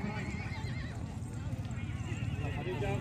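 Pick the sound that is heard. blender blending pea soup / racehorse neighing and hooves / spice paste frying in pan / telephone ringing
racehorse neighing and hooves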